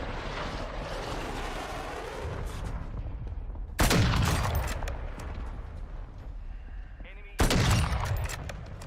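Modern Warfare 2 gunfire: loud, sudden bursts of shots break out twice after a stretch of rumbling battle ambience, each burst sharp and close with a decaying tail.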